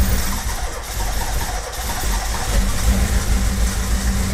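A turbocharged Tofaş car engine runs close by with a steady, rough mechanical roar that grows slightly louder toward the end.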